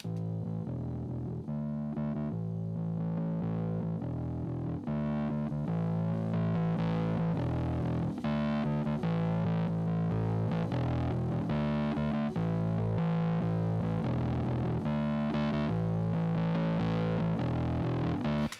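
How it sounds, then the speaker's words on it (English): Electric bass through a distortion plugin pushed hard plays a repeating riff, gritty and saturated with a buzzy top-end bite, loud and continuous with no talking. "let's play with this distortion plugin a little bit"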